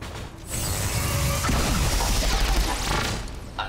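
Gunfire and mechanical crashing in the strategy game Long War 2 for XCOM 2: a dense burst of shots and clattering impacts that stays loud and close for a few seconds, with no talk.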